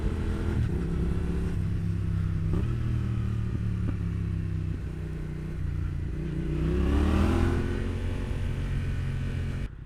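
A motorcycle without a quickshifter accelerates and shifts through its gears, the engine note rising and dropping several times in a steady rumble, with a louder surge of revs near the end.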